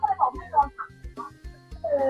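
Chickens at a rural Thai home cluck in short, repeated bursts close by, a steady run of low clucks and brief higher calls with a little background noise.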